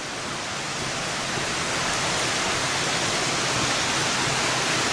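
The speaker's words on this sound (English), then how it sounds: "There's a lot of water coming out of the mountain right now too." Heavy mountain runoff pours out of a hillside along the Iron Goat Trail at Wellington, a steady, loud broadband rush like a waterfall or stream that holds even and unbroken throughout, with no voices.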